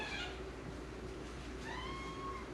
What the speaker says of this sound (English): my cat, one of my cats.